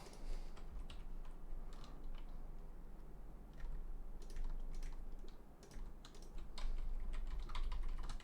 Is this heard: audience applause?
no